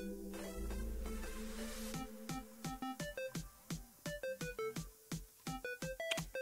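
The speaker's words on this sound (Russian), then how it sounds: "Кто-то позвонил." An incoming call sets off a phone ringtone during a mobile game of Standoff 2, playing a bright, clear melody of short, evenly spaced electronic notes that repeat after a brief stretch of game noise.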